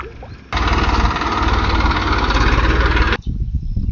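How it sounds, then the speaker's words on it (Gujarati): A tractor pulls up on a farm with its engine running loud and steady for a few seconds at close range, then cuts away into quieter ambient noise. "જો જો ટ્રેક્ટર આવી ગયું છે"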